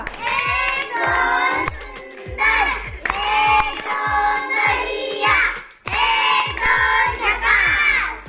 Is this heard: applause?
yes